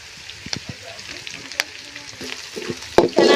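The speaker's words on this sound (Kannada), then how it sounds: "ಚೆನ್ನಾಗಿ ಫ್ರೈ ಮಾಡ್ಕೋಬೇಕು." Finely chopped green chillies and curry leaves fry in a pan for egg rice, a soft crackle marked by a few sharp spatula clicks and a louder scrape near the end.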